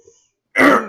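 A single short, harsh cough or throat-clear bursts out close after a brief silence.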